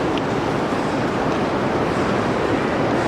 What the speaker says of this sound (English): We went outside and it's pouring.